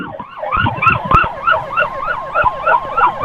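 Ambulance siren wails in rapid repeating up-and-down sweeps, loud and close, during a road escort with traffic noise underneath.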